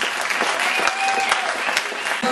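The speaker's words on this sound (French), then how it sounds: "On peut vous applaudir bien fort d'être là." Loud, dense applause from an audience at a slam poetry league launch night in Poitiers, steady clapping that fills the short moment without pause.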